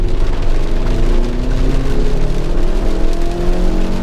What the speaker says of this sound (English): It did a pretty good job of hauling this fairly large vehicle up one of Vancouver's steeper hills.